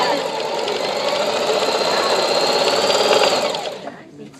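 A Singer sewing machine running steadily, a loud continuous mechanical whir and rapid needle chatter that holds for several seconds, then winds down and stops near the end.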